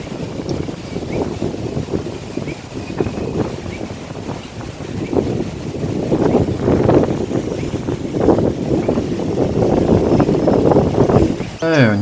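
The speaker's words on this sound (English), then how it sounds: "A bit windy today, sorry guys." Wind buffets a microphone outdoors in the woods, a continuous rough, low rumbling roar that swells and gusts throughout, with someone speaking over it.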